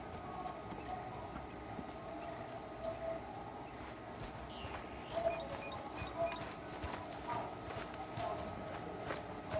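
A horse walks at a steady pace in the Red Dead Redemption 2 video game, its hooves giving a continuous, fairly soft clip-clop over a constant ambient background.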